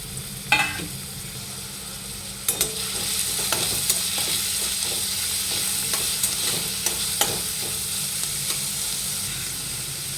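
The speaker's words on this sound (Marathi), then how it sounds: "आता हा बारीक कापलेला कांदा टाकून घेऊया" Finely chopped onion frying in hot oil in a pan, a continuous loud bright sizzle with occasional clicks and scrapes of a spoon stirring, close and steady throughout.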